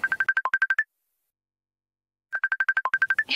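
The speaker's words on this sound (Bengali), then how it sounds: "ফোন এসছে, দাঁড়াও।" A phone rings for an incoming video call: a fast electronic warble of rapid repeated beeps in one burst, a pause of about a second and a half, then a second identical burst, fairly quiet and with no talk.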